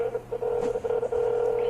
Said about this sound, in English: placing a phone call to Nicole Kessinger, also known as Nikki.